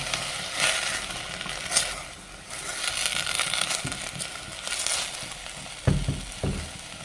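Potato, onion, ginger and green chili fry in a pan of hot oil for poori masala, giving a steady broadband sizzle with a few louder crackles and stirring scrapes near the end, close and alone without talk.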